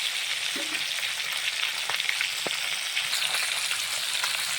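Fish pieces sizzle steadily while frying in hot oil for a Bengali fish curry, a continuous dense crackle with occasional sharper pops, close and even throughout, no talking.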